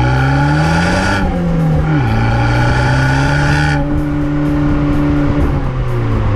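A 165-horsepower Abarth 595 with a 1.4-litre turbo engine revs loud and close from inside the car, its pitch climbing and falling through gear changes in a continuous raspy drone, with no talk over it.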